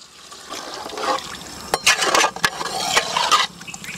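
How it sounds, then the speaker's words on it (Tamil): Water is poured and splashes into a pot of cooking mutton curry, a sloshing, bubbling pour that swells and surges in bursts over several seconds. "கறி கூட கொஞ்சம் தண்ணி சேர்த்துக்கலாம்."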